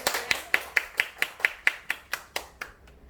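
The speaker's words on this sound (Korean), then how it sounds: "박수 부탁드립니다." A short burst of clapping at a home meeting, about a dozen sharp claps in a steady rhythm that slows and fades toward the end, close and fairly loud.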